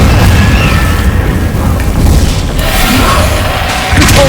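A booming magical blast from the Confringo spell in a Harry Potter video game, a loud, dense explosion layered over continuous rumbling game effects, with a cast spell and crowd-like noise around it.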